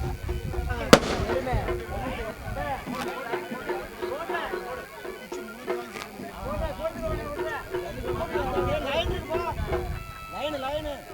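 Firecrackers burst at a village bull-taming festival (vadamadu eruthukattu) in Keezhathooval near Mudukulathur, with one sharp loud crack early on amid crowd noise, while people talk and a loudspeaker announcer speaks throughout.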